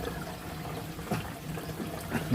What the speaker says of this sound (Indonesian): Proses pengeluaran seperti ini, tinggal buka kerannya ya.